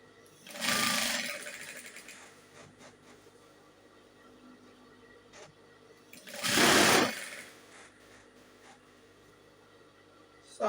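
Two short bursts of a sewing machine stitching a full flare gown, each a rapid mechanical whir lasting about a second, separated by a quiet stretch of low room hum.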